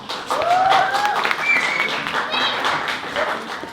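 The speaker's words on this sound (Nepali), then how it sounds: "उहाँलाई स्वागत गरौँ तालीले, गरगड हात तालीले" An audience claps at a Nepalese cultural and musical evening in Oslo, a sustained patter of applause from many hands with a few whistles over it, fairly close.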